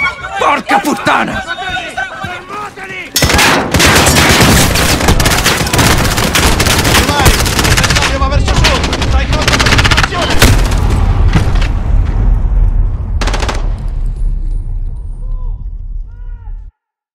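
Gunfire in Call of Duty: Modern Warfare (2019), Old Comrades campaign mission: dense bursts of automatic fire and booming shots, loud and close, with shouted voices mixed in.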